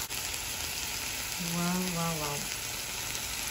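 Tempe frying in salted oil gives a steady, bright sizzle throughout. A short spoken exclamation rises over it midway.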